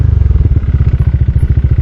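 A motorcycle nicknamed Tiny rides a rough, bumpy road toward Parang Hills in Casiguran, Aurora, its engine a steady, close, loud low thrum with rapid rhythmic pulsing and some clatter.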